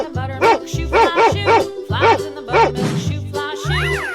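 Cartoonish dog barks in a 3D animal sliding video game, about seven short bow-wow yaps in a steady rhythm over looping upbeat game music, loud and close.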